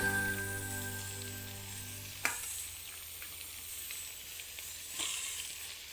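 Vegetables sizzle steadily in a pan for a traditional Assamese banana stem and pumpkin dish, with a faint hum early on and a couple of sharp utensil knocks as they are stirred.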